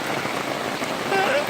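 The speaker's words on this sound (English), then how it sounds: "Yes, it is raining." Steady rain patters on a surface and an umbrella during a June rainstorm on a French Broad River trip, a continuous close hiss with faint voices briefly underneath.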